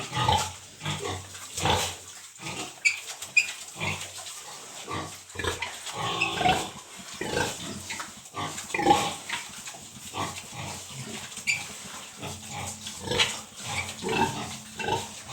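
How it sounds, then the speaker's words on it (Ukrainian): Piglets grunt and squeal in soft, irregular bursts through the whole stretch while lying beside a sow on a farm, close and fairly quiet, with no talk. "залишилося 14 поросяток біля свинки"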